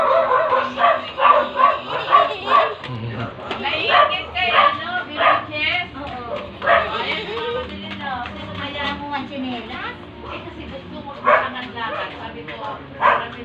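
A dog yips and barks repeatedly at close range while people talk over it, the barks scattered through a busy mix of voices.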